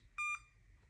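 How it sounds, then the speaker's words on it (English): Radiomaster Zorro RC transmitter linked to an Eflite Ultrix model gives one short, clean electronic beep, a steady two-tone chirp lasting under a fifth of a second, over faint background hum. "All right, let's make this quit beeping."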